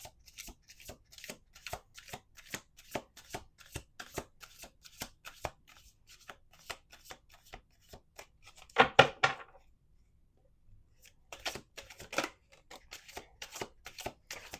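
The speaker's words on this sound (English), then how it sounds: "We're going to do 2 more shuffles." A deck of cards is riffle-shuffled repeatedly, crisp rapid flutters close up, followed by a brief pause and another shuffle.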